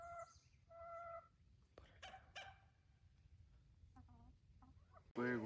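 Chickens and roosters clucking close by, scattered short calls and squawks with a louder sudden squawk at the end, over faint background rustle.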